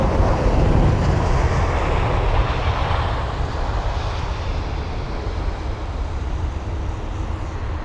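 Aircraft at London Heathrow, a loud, steady jet roar that swells early and then slowly fades as the plane moves away, with no talking.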